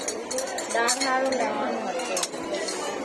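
Metal spoons clink and rattle as they are handled on a store shelf, a cluster of bright chinks close by with a sharper clack near the end, while a person talks over them.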